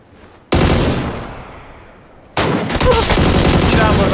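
Gunfire in PlayerUnknown's Battlegrounds, a video game: two loud, close bursts of rapid shots, the first ringing out with a long decaying echo before the second, denser volley.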